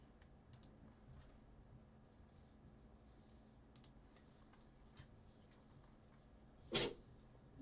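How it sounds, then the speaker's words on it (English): One sharp, loud sneeze bursts out near the end after several quiet seconds of room tone with faint keyboard-like ticks in the background. "Bless you"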